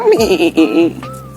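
A goat being fed bleats several times in quick, wavering cries, close and loud, followed by a steadier higher call.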